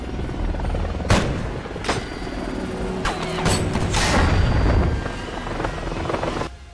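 A helicopter being shot down in the 2007 film Shooter: loud rotor and engine roar punctuated by sharp gunshot bursts and impacts, building to a heavy crescendo before cutting off abruptly.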